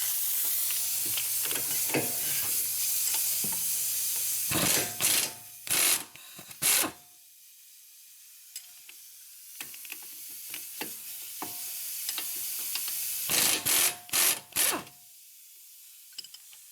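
A ratchet works on steering knuckle bolts of a Nissan Murano, with bursts of quick clicking separated by pauses, plus some metallic handling noise close by.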